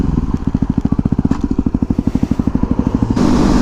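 A 2009 Yamaha WR250X motorcycle engine fires in a fast, steady pulsing rhythm while riding, close and fairly loud, shifting to a smoother higher drone near the end.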